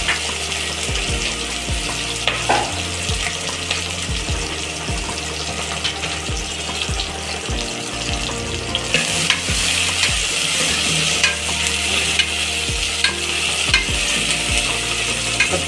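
Onions and green chillies sizzle in a pan for Hyderabadi mutton curry, a steady close frying hiss punctuated by repeated scraping strokes of a spatula stirring throughout.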